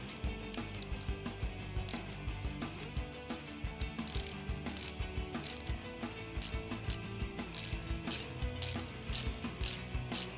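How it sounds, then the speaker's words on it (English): A T25 Torx ratchet tightens a bolt on the clamp of a Touratech crash bar reinforcement bar on a BMW R1300GS motorcycle, giving rapid repeated metallic clicking strokes close by, with no talk. "you're going to take your T25 Torx and just tighten it the rest of the way"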